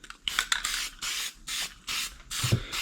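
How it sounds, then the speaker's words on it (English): Short bursts of aerosol guide coat sprayed onto old dirt bike plastics, a series of close, loud hissing puffs separated by brief pauses, with no talking. "So now, I'll spray a little guide coat on here."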